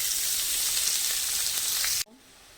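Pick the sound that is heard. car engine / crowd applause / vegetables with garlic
vegetables with garlic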